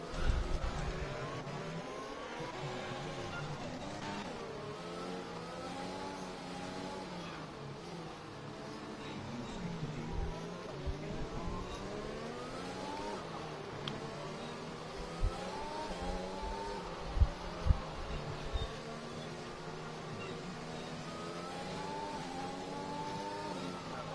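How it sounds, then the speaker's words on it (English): A car engine in a racing video game revs and drones steadily over a long stretch, pitch rising and falling through gear changes, with a few sharper knocks and thumps along the way. "revving your engine out doesn't burn any fuel"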